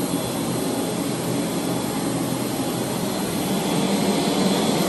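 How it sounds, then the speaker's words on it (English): ZX vacuum motors on a Monsoon portable carpet extractor run at full power on a job, giving a loud, steady, close-up whine with no breaks. "So the new ZX vacuum motors"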